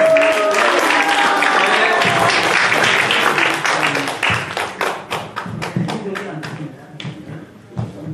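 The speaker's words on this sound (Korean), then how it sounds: "박수 한번" A crowd at a care home claps for a trot singer, dense applause at first that thins into slower, distinct individual claps, with voices talking over the later part.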